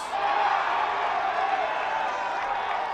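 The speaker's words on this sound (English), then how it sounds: "The fans delight in the incompletion." Fans at a professional AUDL ultimate frisbee game roar and cheer after an incompletion, a steady, dense wash of crowd noise with scattered whoops holding at full level throughout.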